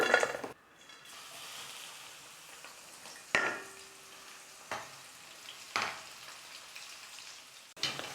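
Crushed garlic frying in oil for a Diwali mixture snack makes a quiet, soft sizzle, punctuated by several sharp metallic clanks and scrapes of a utensil against the pan, heard close up with no voices.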